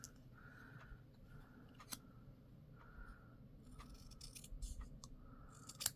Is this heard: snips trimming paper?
yes